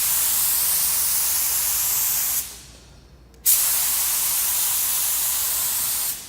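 Continuous close hiss of a spray gun applying sealer over a whole plastic bumper cover panel, broken by one brief pause of about a second before the spraying resumes steadily.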